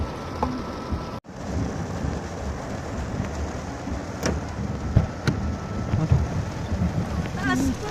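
Heavy rain falls at Loyola Cemetery, a steady broadband hiss with a brief cut near the start, while a few voices and scattered knocks come through underneath.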